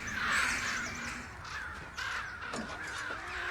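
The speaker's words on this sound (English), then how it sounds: "They started like crowing a lot when they lit the fire." Crows caw in a Game of Thrones scene after a fire is lit, several harsh, drawn-out calls sounding fairly close and repeating over a low background hush.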